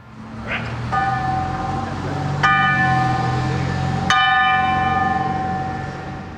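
The John Brown Bell rings at a bell ringing ceremony, three clear resonant strikes spaced about a second and a half apart, each leaving a long humming decay over steady outdoor background noise.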